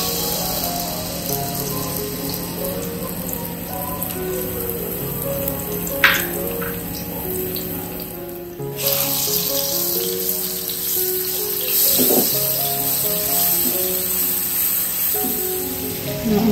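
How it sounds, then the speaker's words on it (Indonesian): Garlic frying in oil for beef and chicken meatball soup, a steady sizzling crackle filling the whole stretch, with a brief clatter midway and the sizzle rising louder after. "kita menggoreng bawang putihnya dulu ya teman-teman"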